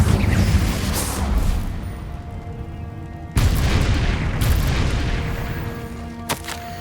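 Deep booming blasts from the Confringo fire spell in the Hogwarts Legacy video game, with two heavy explosions and rumbling tails, then a brief sharper crack near the end, loud and close.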